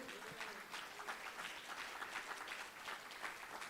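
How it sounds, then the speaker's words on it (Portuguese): A church congregation applauds for a few seconds, a steady dense clapping at moderate, fairly distant level with a faint voice briefly underneath. "Dê um aplauso ao Senhor."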